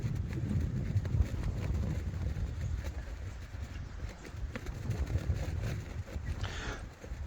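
Wind blows over an island green on a disc golf course, a steady, fairly loud low rumble of gusts buffeting the microphone throughout, with no voices.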